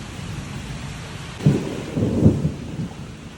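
Strong afternoon thunderstorm in Atlanta, Georgia, with steady rain hissing throughout and two deep thunder rumbles rolling in close together near the middle, fairly loud and with no voices.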